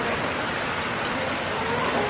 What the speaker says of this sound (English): Just a rainy night here in